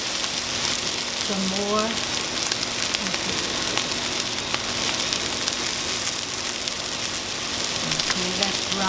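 Salmon fries in olive oil in a pan, a steady broadband sizzle running the whole time with light stirring, while someone talks briefly over it.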